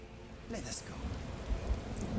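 Steady rain falls in the video game Skyrim around Whiterun, a continuous hiss with a few low rumbles and faint game effects underneath.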